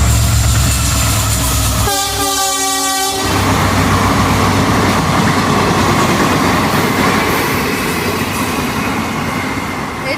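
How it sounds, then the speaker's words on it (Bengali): A train rumbles past close by at a rural temple site, its loud horn blaring for about a second early on while the heavy rolling clatter of the wagons continues steadily to the end, with no talk. "এই যে দেখো ট্রেন যেতেছে"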